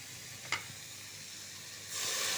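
Steady hissing sizzle of oil in a pan of Assamese sour fish curry with stirred tomato, a brief clink near the start, then a louder surge of sizzle as water is poured in; no talk.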